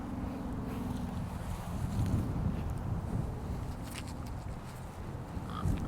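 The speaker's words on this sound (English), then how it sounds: "It gets windy up here on the hill." Wind blows on a hilltop, a steady low rumbling buffeting at the microphone that swells slightly in the middle and carries on throughout at moderate level.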